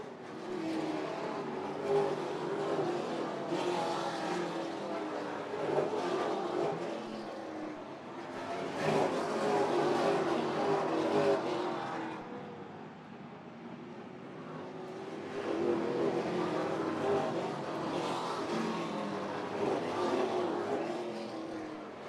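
Super late model race cars roar around the oval at Oyster during the Island Construction 200, engine noise swelling and fading in waves as packs pass, loud and continuous with no talk.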